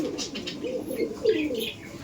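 Kaldom pigeons, a male and female pair in a loft, cooing in soft rolling throaty calls at close range, with a few faint higher chirps mixed in.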